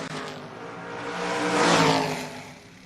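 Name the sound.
drag racing car launching down the track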